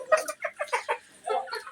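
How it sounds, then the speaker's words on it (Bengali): A pair of farm chickens cluck in a string of short, close bursts, with a brief pause before a final flurry of clucking. "ওই যে একটা মুরগি সুন্দর জুটি"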